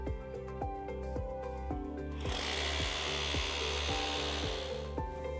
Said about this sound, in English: When drilling the hole, you want to drill down 4 inches.